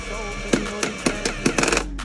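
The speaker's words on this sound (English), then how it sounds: "Yeah, you gotta know how to control your drill to do stuff like this." A power drill bores a hole for faux wood blind brackets without a pilot hole, giving several short whirring bursts with brief pauses between them, close and fairly quiet.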